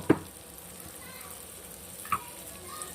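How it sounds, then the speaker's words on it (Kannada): Ridge gourd cooks in a pan with a faint, even sizzle, punctuated by two short clinks of a utensil against the pan. "ಹೀರೆಕಾಯಿ ಕುಕ್ ಆಗ್ತಿದೆ."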